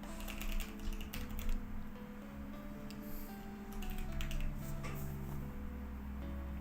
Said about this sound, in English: why is it so hard to fucking do this on this fucking keyboard?